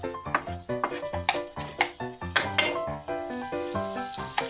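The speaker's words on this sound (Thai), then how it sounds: "คนไปนะครับ ให้มันสุกให้หมูก็สุกนะครับ" Minced pork stir-fried in a pan, a steady sizzle broken by repeated loud scrapes and clatters of a utensil stirring the meat, close and busy throughout with no talking.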